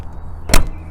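A 2002 SAAB 9-3 door latch clicks shut in one short, sharp, close thunk, alone against a quiet background.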